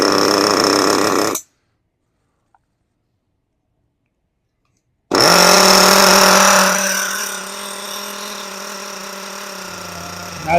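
Kyosho US1 nitro RC boat engine running, loud and close: a first burst that cuts off, a silent gap, then a steady buzzing roar that drops to a lower, even idle.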